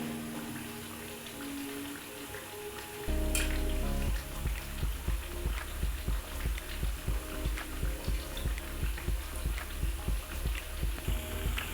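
Onion pakkavada fritters bubble and sizzle in hot oil, a steady crackling fry close by that turns into a quick, regular pulsing after a few seconds as the fritters are flipped and stirred.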